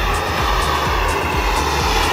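A light aircraft flies low and slow over an airshow field with its flaps extended, a steady, loud propeller-engine drone holding throughout with no talk.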